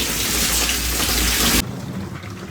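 Water gushes from a pipe after a motor pump starts, a loud steady rush that drops off abruptly after a second and a half to a quieter trickle.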